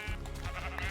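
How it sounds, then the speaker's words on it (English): Minecraft sheep bleating in the old 2012 Pocket Edition, a close, steady wavering bleat lasting about a second with no talk over it. "All right, gray sheep, yes."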